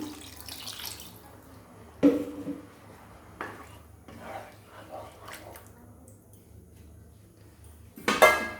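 Water poured and splashing into a metal pot of gobindobhog rice in a home kitchen, a few close bursts of pouring and clinks separated by quiet, faint humming background.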